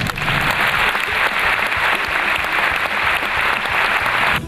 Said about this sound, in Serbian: Po ovacijama i gromoglasnom aplauzu koji je film Na mlečnom putu dobio od publike